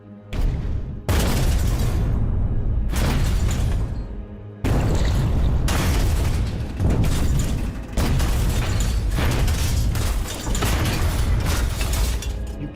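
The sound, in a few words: depth charge exploding behind a submarine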